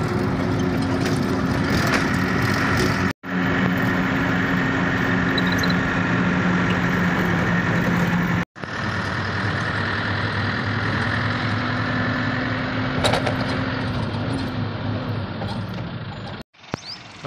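A safari jeep at Sasan Gir sits idling on arrival, its engine giving a steady, loud, close rumble that cuts out briefly twice and then resumes.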